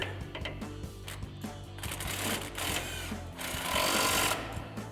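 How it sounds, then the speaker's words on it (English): Ratcheting and metallic clicking from a 15mm socket tightening a bolt on an MBRP Armor Lite dual exhaust system for a 2019-2024 Silverado or Sierra 1500, with rapid repeated clicks and a few clanks, close and moderately loud. "We'll tighten that down again with our 15mm socket."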